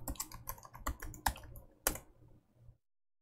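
Someone types a password on a computer keyboard to log in, producing quick irregular clacks with a few heavier keystrokes, close and clear, then stopping abruptly near the end.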